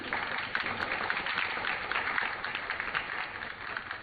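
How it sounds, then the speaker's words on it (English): An audience claps steadily for a panel at a women's wellness symposium, a dense, even wash of applause lasting several seconds without pause. "let's have a big round of applause for my panel here"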